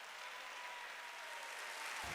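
A congregation claps during a sermon, even, continuous applause from many hands heard at a moderate distance, ending with a brief low thump.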